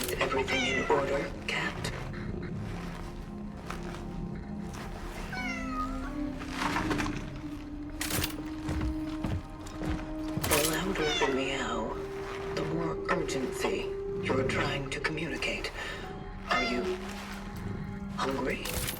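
A cat in the video game Cronos: The New Dawn meows repeatedly in drawn-out, wavering calls over a busy game soundscape, while a voice speaks at points throughout.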